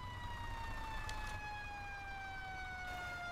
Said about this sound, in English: That's a lot of ambulances.